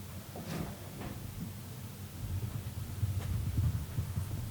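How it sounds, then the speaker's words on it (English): Faint, dull knocks sound inside a room of an old hotel in Llangefni, a few isolated soft thuds spaced irregularly over a low steady hum, with no voices. "You heard that? Yeah, knocking, landing somewhere."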